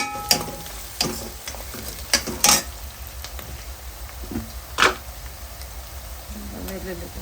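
Ginger garlic paste tipped into a hot pan of browned onions and turmeric for a simple chicken curry, giving a steady sizzle and fry with a few sharp clatters and scrapes of a spoon against the pan.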